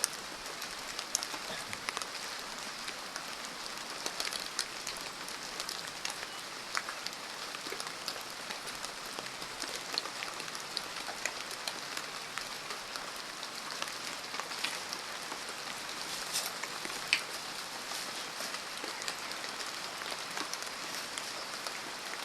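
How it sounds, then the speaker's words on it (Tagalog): Steady rain falls in a forest as a dense, even hiss of drops on leaves and ground, constant and moderately faint throughout with no voices. "Abutan tayo sa ulan dito to."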